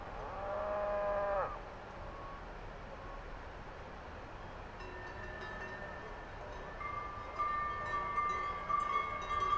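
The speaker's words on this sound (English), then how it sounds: "finally, the cows are coming" Cattle lowing as the herd comes in for milking near Öschinensee in the Swiss Alps, with one loud close moo at the start and fainter, drawn-out calls further off over a steady outdoor murmur.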